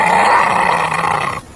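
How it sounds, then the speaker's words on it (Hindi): A wolf growls in a cartoon horror story, a loud, close, sustained rumbling snarl lasting over a second before cutting off abruptly. "तभी भेड़िया उसे देखकर गुर्राने लगता है।"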